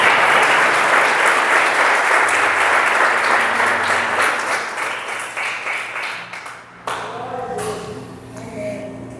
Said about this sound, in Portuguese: salva de palmas para o Senhor Jesus